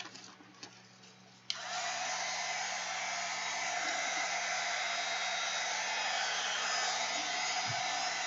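A hair dryer blowing over glued napkin collage on a mixed media bag switches on after a quiet start and runs as a steady, close whooshing roar until the end.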